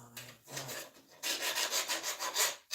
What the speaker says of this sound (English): I'm just deburring a little bit now